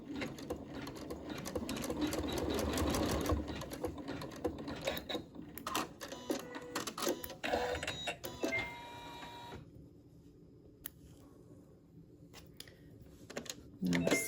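Embroidery sewing machine tacking fabric down for a pincushion, a steady rapid stitching rattle that runs loud for several seconds, then eases and continues lighter with brief pauses, with a voice speaking over parts of it.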